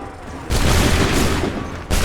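Soldiers fire a musket volley in the Assassin's Creed 3 video game: a sudden loud, dense burst of gunfire rumbles on for more than a second, and a second blast begins right at the end.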